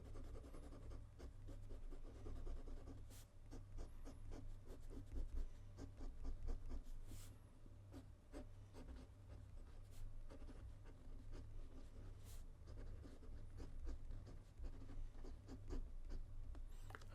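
A Lamy 2000 fountain pen with a wet, broad medium nib writes on paper, giving a faint, steady scratchy rub of close strokes with no voices.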